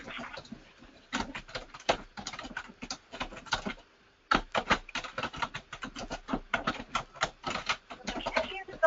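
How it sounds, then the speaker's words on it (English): Someone typing on a computer keyboard during an online webinar, a steady run of quick clacking keystrokes in bursts with a short pause, fairly close and clear, with no talk over it. "I hear somebody typing,"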